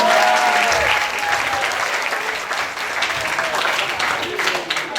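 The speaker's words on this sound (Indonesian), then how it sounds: "Tepuk tangan untuk semuanya" Applause from a school crowd at a Ramadan event at SMKN 14 Jakarta, dense continuous clapping, loud and close, lasting the whole stretch with occasional voices underneath.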